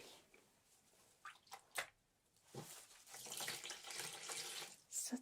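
Soapy water runs and splashes for washing during an ASMR nurse home-visit roleplay. Soft, close trickles and squishy sloshes come in uneven bursts, then a fuller stream of running water, with faint quiet speech in places.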